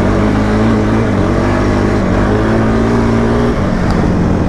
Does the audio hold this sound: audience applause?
no